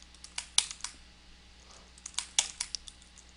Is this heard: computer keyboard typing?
yes